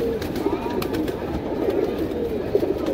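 Pigeons coo at a pigeon shop in Kurla, Mumbai, a steady low murmur of overlapping calls close by with soft rustling, no voices.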